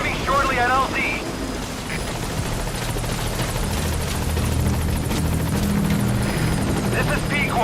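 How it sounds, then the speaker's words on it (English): A support helicopter in Metal Gear Solid V arrives at a landing zone, its rotor a loud, steady, close thudding roar filling the whole stretch, with brief voice chatter at the start and end. "Support helicopter has arrived."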